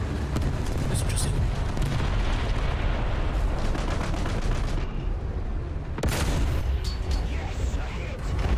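Tank gunfire and a shell striking its target in War Thunder, dense rumbling battle noise with a sharp loud crack near the middle, continuous engine and combat roar throughout, a voice talking over it.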